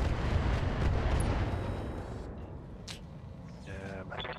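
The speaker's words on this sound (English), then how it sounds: "Incoming missiles." Incoming missiles exploding in a sci-fi combat video game, a heavy rumbling blast that rolls and fades, followed by sharper crackling hits and a short electronic chirp, fairly near and loud with no voices.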